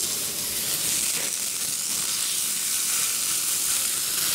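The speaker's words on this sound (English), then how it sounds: "Whack it onto the grill. Just like that. And sear it." A rib-eye steak on the bone sears on a grill in rice bran oil, giving a loud, continuous hissing sizzle that holds steady throughout with no talk.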